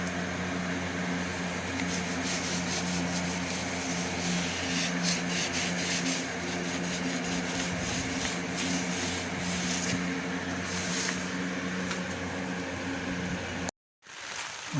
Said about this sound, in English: Got a little lump here, I'll sand that out.